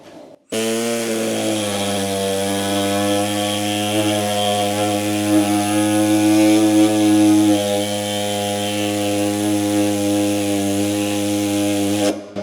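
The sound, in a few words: power saw cutting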